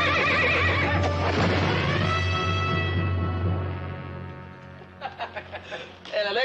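A horse in a Western drama lets out a long, loud whinny that trails off, followed by snorting puffs and a few faint hoof sounds near the end.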